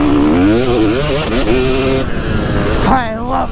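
A two-stroke motocross motorcycle engine revs loudly and close, its pitch rising and falling in quick swells before a final sharp climb, with speech over it.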